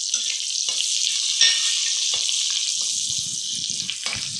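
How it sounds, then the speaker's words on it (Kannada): Dry red chillies crackle and sizzle steadily in hot oil for a South Indian tempering, a dense continuous frying hiss with a few small pops and faint stirring taps underneath. "ಒಣಮೆಣಸಿನ್ಕಾಯಿ ಮುರಿದಿಟ್ಕೊಂಡಿರ್ತೀವಲ್ಲ ಅದನ್ನು ಒಗ್ಗರಣೆಗೆ ಹಾಕಬೇಕು"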